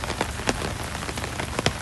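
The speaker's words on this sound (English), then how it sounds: "Yes, I do enjoy the rain, actually." Rain patters onto an umbrella and nearby surfaces during a walk in Phuket, Thailand, a soft continuous hiss broken by several louder individual drop taps, with nobody speaking.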